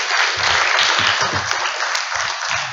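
Studio audience applause on a French talk show set, a dense steady wash of clapping that fills the whole stretch at moderate loudness, with faint low voices murmuring underneath.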